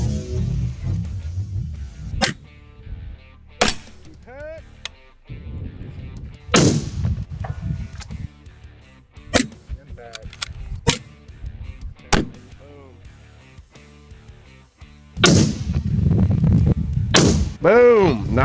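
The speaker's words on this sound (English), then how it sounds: "Impact. Impact." Precision rifle shots at a 1000-yard long range target setup crack out as several sharp, loud reports spaced seconds apart, with brief outdoor noise and faint voices between the shots.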